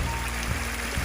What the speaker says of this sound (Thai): น้ำตก วอเตอร์ฟอล